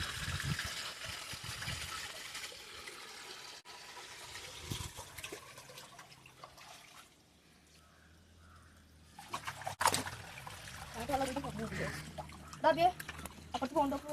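Water runs steadily along a channel beside a house, a continuous rushing wash that eases briefly midway, then swells again while muffled voices come and go in the background.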